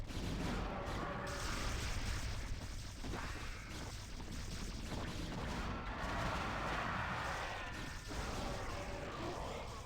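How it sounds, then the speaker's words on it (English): Combat in a StarCraft free-for-all match as lurkers attack photon cannons, with continuous overlapping booms, crunching impacts and bursts of weapon fire over a busy, dense game soundscape. "going for the lurker attack on the cannons"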